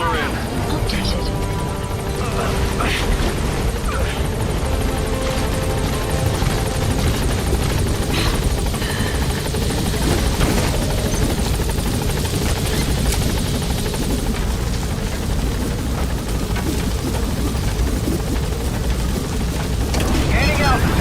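A helicopter in Metal Gear Solid V climbs with a loud, dense, continuous rotor and engine drone that stays steady throughout, with game voices mixed in beneath.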